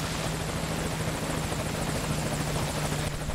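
Helicopter arriving in the game Metal Gear Solid V: Ground Zeroes, its rotor chopping in a continuous rapid thrum with a steady engine whine, fairly faint and unbroken, with no voices over it.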